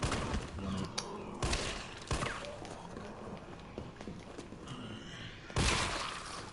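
Assault rifle gunfire in the Resident Evil 3 video game, with bursts of sharp shots at the start and again near the end over a dense, noisy game mix, with no talk.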